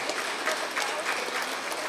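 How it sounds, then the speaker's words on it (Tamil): An audience at an astrology book launch event claps together, a dense, steady burst of applause filling the room for a couple of seconds with no speech over it. "இப்போ கைத்தட்டுங்க பார்க்கலாம்"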